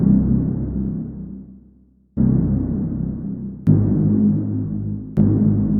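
A deep, gritty Reese bass synth plays short plucked notes that swell and fade, a handful in sequence with a throbbing low tone and no voices.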